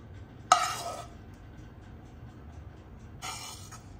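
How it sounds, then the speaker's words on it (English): Stewed cherry tomatoes with basil spooned onto a cheesy minced-meat pasta bake, heard as two short, close wet scrapes and plops with a quiet gap between them. "Now I'm going to add my cherry tomatoes with basil, which I stewed."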